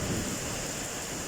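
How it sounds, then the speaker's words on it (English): Heavy rain pours during a storm, a dense, steady wash of noise with a low rumbling undertone throughout this short moment. "Look at the rain. Good old rain."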